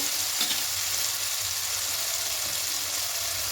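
Tomato and onion sautéing in a pan for a spicy egg curry: a constant close sizzle with a few soft stirring scrapes, no voices.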